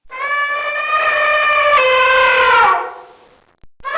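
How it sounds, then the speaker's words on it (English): An elephant trumpets in one long, loud, brassy blast that holds steady, bends partway through and breaks off, followed by a brief softer burst at the end. "An elephant goes."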